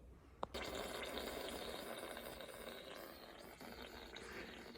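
Water running steadily out of an air compressor drain in a workshop where an aircraft is being built, a continuous faint gushing preceded by a sharp click, with no talking.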